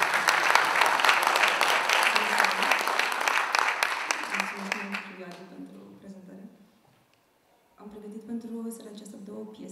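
Audience applause for a singer-songwriter at a live performance: a full wash of clapping rolls for several seconds, fades into near silence, then a voice begins speaking over a quiet room.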